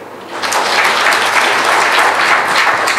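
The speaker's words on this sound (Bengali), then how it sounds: "তাদের প্রতি আপনারা একটা হাততালি দেন" An audience at a cheque distribution ceremony for migrant workers breaks into loud, sustained applause that swells quickly and holds steady.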